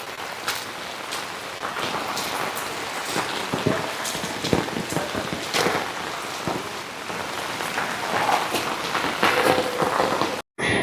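Heavy monsoon rain pours down in Kerala during the flood season, a dense continuous hiss of drops with scattered sharper splatters, loud and close, cutting off abruptly just before the end.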